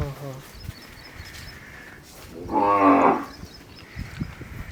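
A single loud, drawn-out moo from a nearby Hallikar bull rises out of quiet outdoor background noise, with faint scattered clicks around it.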